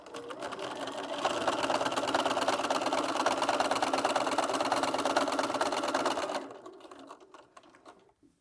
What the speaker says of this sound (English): I'm going to take the two small pieces and sew them to either side of the 5-inch square